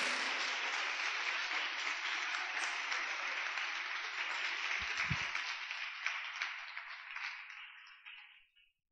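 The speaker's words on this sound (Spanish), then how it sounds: "Yo quiero que le des un aplauso al Señor por su bondad." A congregation applauds in church during an evangelical service, sustained clapping and faint cheering that gradually fades out at the end, fairly quiet overall.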